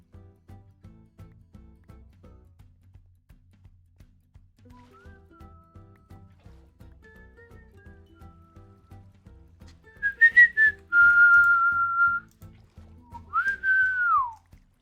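A person whistles along to music during a Minecraft session, with several short high notes followed by a sustained tone and a gliding, falling phrase, rising clearly above a quiet, rhythmic low beat.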